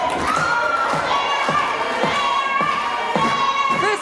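Wrestling crowd at an NWA Mountain State Show in Hinton chanting opposing chants, a loud, dense wall of shouting voices with rhythmic swells and thumps throughout, no clear talk over it.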